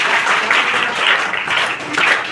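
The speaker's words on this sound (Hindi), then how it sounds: "ताली बजाओ बच्चे के लिए।" Students at an award and guidance event clap for a child, a brief burst of many hands applauding, close and fairly loud, swelling in small waves.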